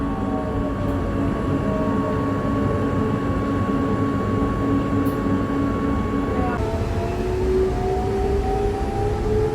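Ride aboard a Jakarta LRT commuter train: a steady, loud rolling rumble with a sustained tonal whine that shifts pitch partway through, and a voice faintly present over the noise.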